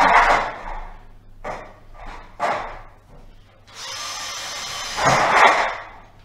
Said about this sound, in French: Je vais venir prépercer deux trous dedans.